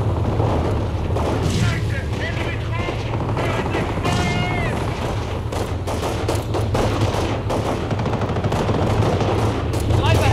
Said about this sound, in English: We're taking infantry fire!